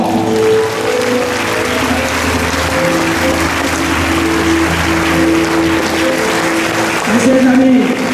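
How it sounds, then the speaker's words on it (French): A church congregation at a Holy Spirit conference applauding and cheering, a dense sustained clapping roar with music tones running underneath and voices calling out. "Si tu le crois, acclame-le encore."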